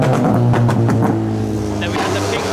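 A modified car's engine revs loudly and steadily in a city car park, with voices talking over the throaty drone.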